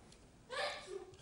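One short, sharp sneeze bursts out nearby against a quiet room background, followed by a faint murmur.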